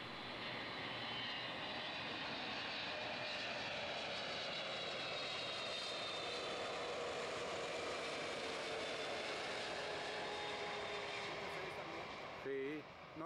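A Boeing 777 jet roaring steadily at Miami International Airport, a broad continuous engine rumble heard from a distance for the whole stretch, with no clear voices over it.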